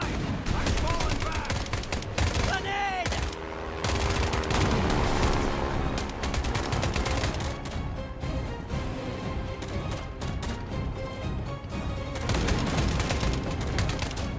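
Bursts of machine-gun and rifle fire crackle from an MG squad in a Rogue Trader video game battle, rapid overlapping volleys with booms and impacts that continue almost without pause, with game sounds layered over them.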